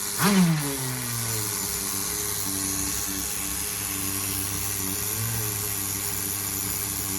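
A Tamiya TGS-R nitro RC car with a freshly rebuilt engine runs steadily, a thin, buzzing high-pitched drone after a quick blip at the start, then a second throttle swell partway through, heard up close.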